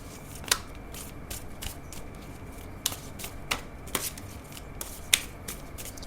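An Archangel Michael oracle card deck shuffled by hand, a steady soft papery rustle punctuated by several sharp card snaps spaced irregularly, close and quiet with no voices.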